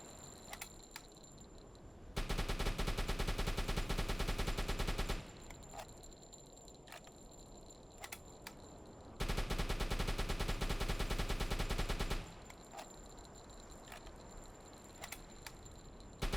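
A submarine deck gun fires in the UBOAT World War II video game, two long sustained bursts of rapid loud firing, each several seconds long, separated by quieter stretches with scattered clicks and a faint steady tone.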